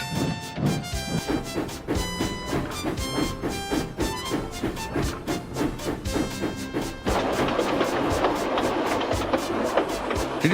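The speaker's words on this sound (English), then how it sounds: "Edward found it hard to start the heavy train." A heavy steam train labours to start at the China Clay Works, with rhythmic chuffing and clanking of wagons over a busy mechanical din that grows denser toward the end.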